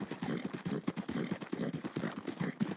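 Horse hooves clop in Red Dead Redemption 2, a fast, even rhythm of close, moderately loud strikes that continues throughout with no voices.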